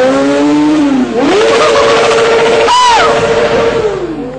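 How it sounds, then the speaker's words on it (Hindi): Motorcycles ridden by biker gangs in Delhi rev loudly and close, the engine pitch dipping and then climbing as bikes accelerate, with one sharp rising whine partway through, amid street noise and no talk. "ये बाइकर्स बाइक चलाने में माहिर हैं"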